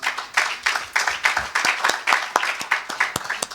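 An audience at a community event gives a short round of applause, a dense close patter of many hands clapping with a few louder claps standing out, no speech.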